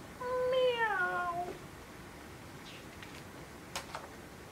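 A voice imitates a cat, giving one drawn-out, falling meow that is loud and close, followed by silence and a few faint clicks.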